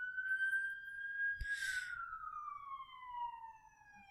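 An ambulance siren in a baseball simulation game wails as one long tone that drops slowly in pitch, alone with no talk, at moderate loudness; a short burst of noise cuts in partway through.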